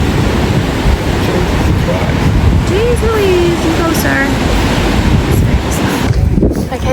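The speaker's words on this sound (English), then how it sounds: "The water is literally splashing on my face from where it's hitting these rocks" Ocean waves surge and splash against rocks at Bondi Beach in Sydney, a loud continuous wash with wind buffeting the microphone, while a person talks over it.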